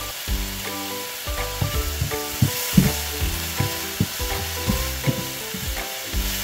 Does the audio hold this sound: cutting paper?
no